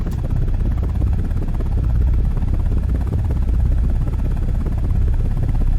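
Attack helicopter in a video game flying at speed: a steady, loud rotor and engine drone with a dense low-end throb, continuous and unbroken, with no voices.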